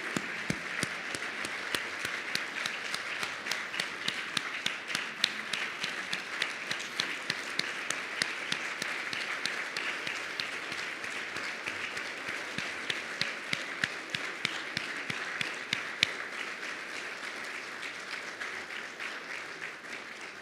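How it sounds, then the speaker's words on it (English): Award winners at an LSU hall of distinction ceremony receive long, continuous applause from the audience, a dense even patter of many hands with occasional louder individual claps, easing slightly toward the end. "Great hand of applause for our changemakers."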